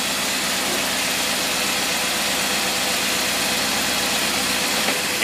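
Engine fitted with a Holley 4412 carburetor running hard at full load, a steady loud droning roar with a dense low rumble, constant throughout and heard alone.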